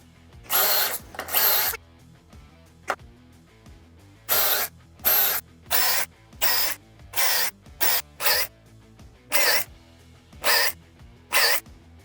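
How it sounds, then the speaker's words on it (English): Power drill boring pocket holes in wooden boards, with about a dozen short, loud bursts of whirring, each lasting under a second and separated by brief pauses, close up with no talking. "we're gonna add our pocket holes into the ends of our cross pieces and then some pocket holes along the edges of our boards"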